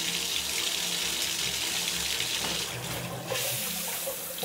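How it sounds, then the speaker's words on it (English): Steady broadband rush of water spraying from a hose nozzle during a dog's bath, continuous and fairly loud throughout with a slight dip and shift near the end. "I'm going to turn the water on, but it's not going to hit her"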